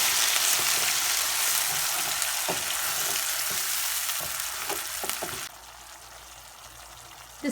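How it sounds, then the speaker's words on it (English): Onion paste frying in caramelized sugar in a pan for Bengali prawn malai curry, a loud steady sizzle with occasional stirring clicks, the hiss dropping sharply partway through. "Now we'll fry the onion paste nicely."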